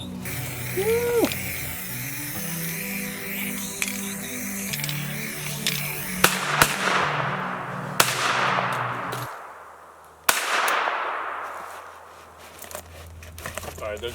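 Several sharp rifle shots from a Troy A4 crack out one after another, hitting a steel target, each followed by a decaying echo, over a busy background of music and voices.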